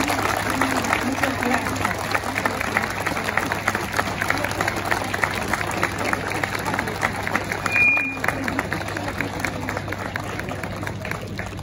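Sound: audience applause for the military band

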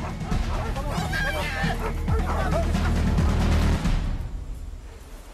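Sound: dogs barking amid shouting men

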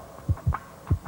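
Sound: heartbeat pulse sound effect on TV quiz show

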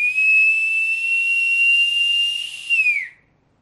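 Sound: loud human whistle, tongue folded back method

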